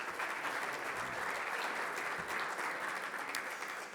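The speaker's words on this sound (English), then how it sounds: "Why don't we give them a big round of applause" A seated breakfast audience claps in sustained, even applause from start to finish, a dense wash of many hands.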